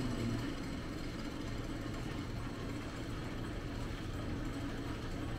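A Clausing lathe runs under an inverter and VFD in direct drive with its clutch engaged and no gears in; a low, even motor hum and drone holds steady throughout, fairly quiet, with no voices.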